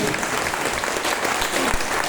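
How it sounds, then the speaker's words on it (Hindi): Audience applause fills the space as a crowd claps loudly and continuously at a live event, a dense steady patter with occasional louder individual claps. "आशीर्वाद स्वरूप एकदम जोरदार ताली बजाइए एक बार मेरे लिए"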